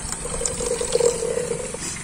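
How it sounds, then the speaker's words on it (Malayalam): 7Up soda pours steadily into a glass of mixed cool drink, a continuous close liquid stream with a gentle bubbling fizz lasting about two seconds, with no voices. "ഇനി സെവനപ്പ് ഒഴിക്കാട്ടോ."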